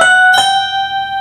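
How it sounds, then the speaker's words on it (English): Synthesized keyboard tones driven through MIDImorphosis from a Takamine guitar, a bright sustained chord with a fresh attack partway in, ringing steadily and loud with no one talking. "what you're hearing there is the keyboard output or the MIDI output from the guitar"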